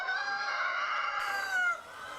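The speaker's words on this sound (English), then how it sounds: "The chickens at Kaduri Farm are part of the same early morning hustle and bustle." Free-range chickens on Kaduri Farm in Hong Kong cluck and call close by in the early morning, a clear rising crow-like cry that drops off abruptly near the end.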